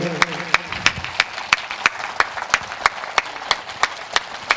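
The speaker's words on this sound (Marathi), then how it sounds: "या ग्रुपसाठी सर्वांनी जोरदार टाळ्या वाजवायच्या आहे." An audience claps for the Soham Yoga Group from Malegaon at a Padva Pahat celebration, sharp unison claps landing in a steady, even beat about three per second, loud and close over a soft background murmur.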